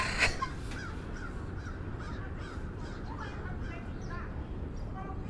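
A crow caws repeatedly on a Manhattan street, a series of harsh calls of varying loudness, some nearer and some farther, over a steady urban background hum.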